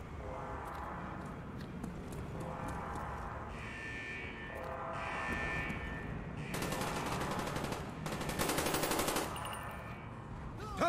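Automatic and rapid gunfire in the Call of Duty Black Ops campaign, sustained bursts of shots over a constant rumble of game ambience and music, fairly distant and steady.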